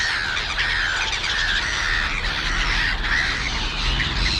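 A small crow squawks and caws repeatedly in a steady rhythm, fairly close, over a constant low rumble of outdoor background noise.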